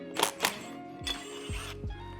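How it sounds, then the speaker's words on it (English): A 3/8 hex driver loosens the bolts on a press's adapter plate, with two sharp metallic clicks followed by a few short ratcheting, whirring turns and falling tones, close and isolated. "I'm going to swap over to a 3/8 hex driver here, undo these bolts for the adapter plate."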